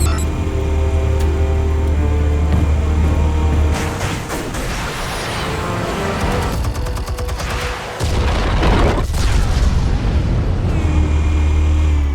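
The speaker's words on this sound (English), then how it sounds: "Explosives armed. Fire when ready." Explosives detonating in Batman: The Telltale Series, a loud sustained blast with heavy booming rumble and crackling debris, alone at full level for several seconds before settling into a low drone.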